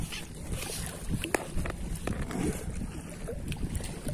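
Wind blows outdoors at a fishing spot, a steady broadband rush of gusts buffeting the microphone. No one speaks.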